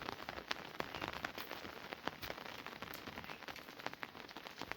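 Steady rain patters on a surface near a farm field, with scattered sharper drops popping through the constant hiss.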